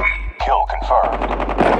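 Rapid automatic gunfire in the mobile shooter game Call of Duty Mobile, a dense burst of sharp repeated shots over a low hum, close and loud.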